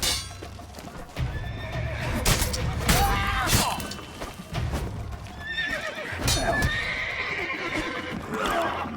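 Horses neigh and whinny loudly in The Witcher 3 video game, with clip-clopping hooves, thuds and clatter mixed into a busy, chaotic scene.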